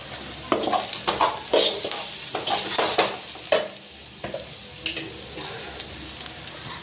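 Rajma curry stirred and frying in a pan right after kasuri methi goes in, a steady close sizzle broken by repeated scraping stirs at an uneven rhythm, with no talking.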